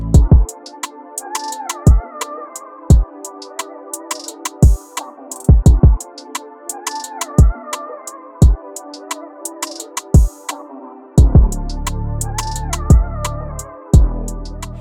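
A sampled 90s R&B groove with punchy drum hits and soft melodic chords, the beat looping steadily and clearly with no talking.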